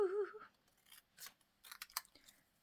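Scissors snip through paper for a junk journal page in a few short, close, crisp cuts after a brief spoken word at the start, fairly quiet overall.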